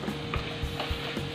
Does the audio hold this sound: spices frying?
yes